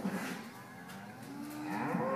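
Dairy cows moo in long, low, drawn-out calls at a milking shed, one after another at moderate distance, with no talking.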